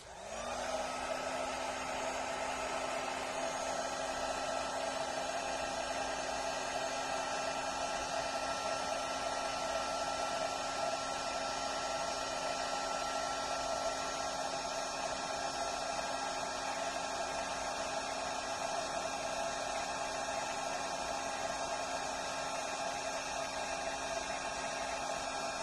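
An electric embossing heat tool blows steadily for the whole stretch, melting embossing powder on a stamped card; a close, constant whirring hiss with a fixed tone and no talk over it.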